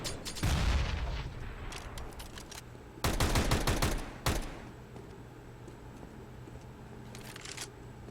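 Video game gunfire with a player being shot arrives in short, loud bursts of rapid shots, separated by quieter stretches and a final faint flurry.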